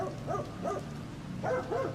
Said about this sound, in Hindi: अल्सेशन कुत्ते बहुत देर से भौंक रहे हैं।